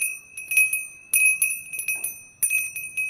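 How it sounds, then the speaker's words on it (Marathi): A small bell rings in three bright, close bursts, each a quick jangle of overlapping strikes that fades before the next, heard alone. "मी घंटा बरी आहे तुझी"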